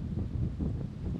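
A gust of wind buffets the microphone on the golf course at Caboolture Golf Club, producing a continuous low, rumbling roar with no talk.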